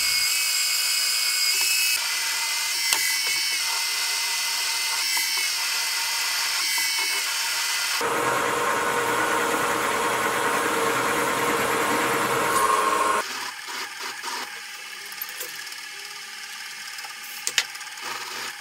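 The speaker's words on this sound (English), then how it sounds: "I set up the DRO to drill the other holes" A high-pitched milling machine drill whines steadily, its tone shifting between passes as it bores holes into a metal toolmaker's vise part, with occasional clicks and ticks.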